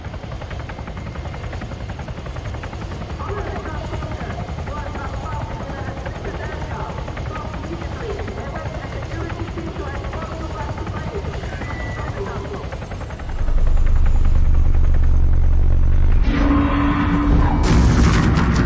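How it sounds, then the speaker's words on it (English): A helicopter in the video game Arma 3 drones steadily with heavy rotor noise, then surges much louder near the end as it closes in, joined by booming game effects. "There's a helo."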